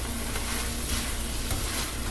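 Southern fried apples sizzle in a pan, a steady dense hiss with no pauses and no voices.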